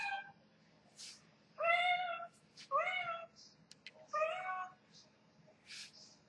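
A pet cat meows three times in close succession, each call clear and drawn out with a rising-falling pitch, loud and close to the listener, separated by short pauses with faint background rustles.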